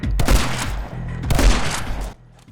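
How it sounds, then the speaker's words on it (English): Shotgun blasts in the video game My Friend Pedro: two heavy, booming shots with a punchy low-end impact, loud and close, with no talk. "This is one of the best shotguns in a video game I've ever used. The loud punch and impact that comes with using it feels badass."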